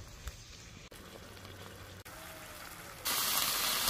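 Seasoned meat cooks and browns in a pan with a steady, hissing bubble that grows noticeably louder near the end, with no voices.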